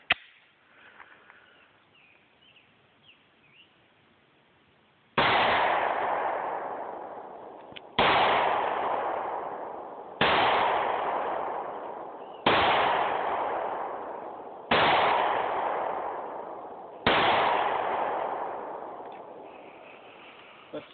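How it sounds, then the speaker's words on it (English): Six shots from a Kahr PM9 compact 9mm pistol ring out, loud and sharp, each blast followed by a decaying echo and spaced a couple of seconds apart after a quiet lead-in. "we got the Carr PM9 compact 9mm. Six shots, best of six."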